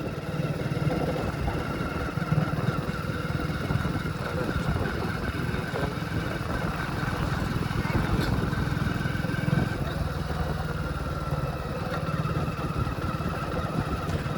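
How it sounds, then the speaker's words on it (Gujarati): A motorcycle engine putters at low speed in slow traffic, a steady mid-pitched drone with a faint hum of traffic around it. "આપણે હળવે હળવે બાઇક હાંકવાનું થાય છે."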